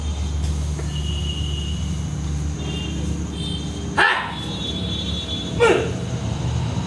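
A dog barks twice, a few seconds apart, over a steady low rumble of background noise.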